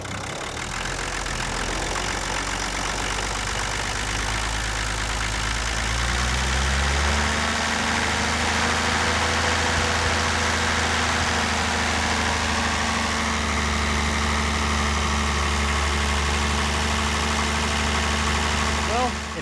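1978 International Scout II diesel engine idling while fed from a fuel jar, a steady close rumbling clatter with a deep even throb throughout, and a voice talking over it.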